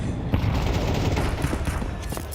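Pistol fire during a professional Counter-Strike match, a dense run of rapid shots blending into a continuous rattling burst, loud throughout with no pauses.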